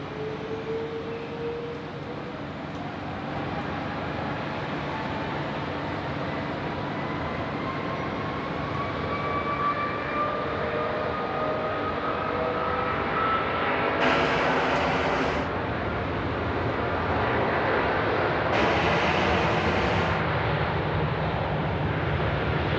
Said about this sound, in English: Cleared for immediate takeoff here, runway 16 right.